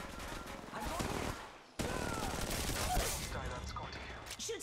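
Gunfire from the video game Apex Legends Mobile: dense, rapid automatic bursts with a short break near the two-second mark, then continued shooting, loud and close, layered over constant game noise.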